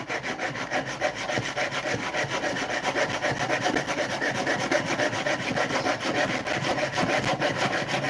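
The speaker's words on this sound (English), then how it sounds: "Cutting Purple Heart splines off my yellow cedar boxes." Hand sawing of purpleheart wood splines flush off yellow cedar boxes produces steady back-and-forth rasping strokes, close and continuous throughout.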